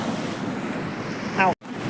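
Sea waves and steady wind at a beach form a continuous broadband wash, with wind buffeting the microphone and a brief dropout near the end.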